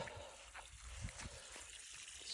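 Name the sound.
water flowing from a well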